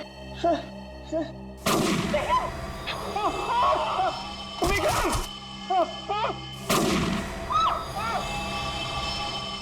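Gunfire in a TV crime drama: a few loud, sharp blasts ring out and decay, with tense voices speaking between the shots.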